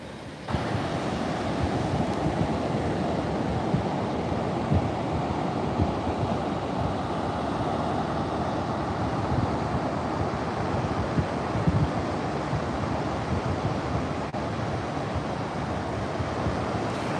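Ocean waves wash steadily onto a San Diego beach, a dense, continuous roar of surf with wind buffeting the microphone throughout, no voices heard.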